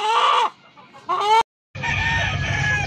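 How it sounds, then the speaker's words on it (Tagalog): A white chicken clucks and crows in short, loud bursts close by, with a brief pause between calls and a sudden silent gap before steady rustling background noise. "Puting manok."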